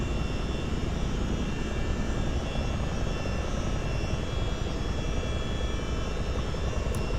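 A Boeing CH-47D Chinook twin-rotor helicopter in a flight simulator game gives a steady, loud, dense engine and rotor roar that holds unbroken from start to finish.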